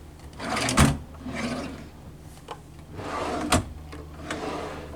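Hotel room drawers in a Comfort Suites slide open and shut several times, with sharp wooden knocks and scraping runs spread across a few seconds, close and fairly loud in a quiet room.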